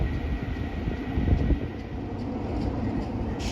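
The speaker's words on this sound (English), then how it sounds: "passing through now is an Avanti West Coast Pendolino service going to Glasgow Central from London Euston" An Avanti West Coast Pendolino, unit 390-112, runs through a station on the way from London Euston to Glasgow Central, giving a steady, fairly loud broadband rumble and rush throughout with no voices.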